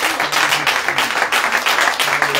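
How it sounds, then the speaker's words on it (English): Church congregation clapping hands in praise during a worship service, a loud, close burst of many hands in quick, roughly rhythmic claps lasting a couple of seconds. "Give God a hand clap of praise"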